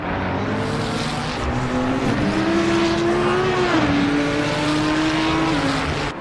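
A GT3 race car in Assetto Corsa Competizione roars at steady high revs, its engine pitch rising and then dipping under braking into a downhill left-hander past a crest, loud and continuous.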